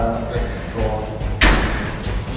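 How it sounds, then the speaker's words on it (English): A door bangs in an abandoned hotel, one sharp slam partway through, heard amid background rumble and speech. "No, there are many doors that are banging."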